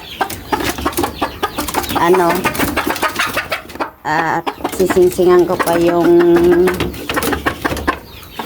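A mother hen and her small chick cluck and peep at close range, the calls coming in short bursts under someone talking.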